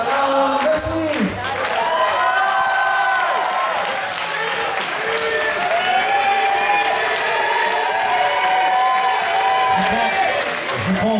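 A live audience applauds a performer after an original-lyrics song, sustained clapping and cheering filling the space loudly for the whole stretch with some crowd voices mixed in.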